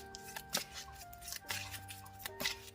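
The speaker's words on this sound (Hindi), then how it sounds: "तो शुरुआत करते हैं कार्ड शफल करके पाइल नंबर 1 के लिए।" Tarot cards are shuffled by hand, a close, quiet run of soft papery flicks and riffles in short uneven bursts, with no talking.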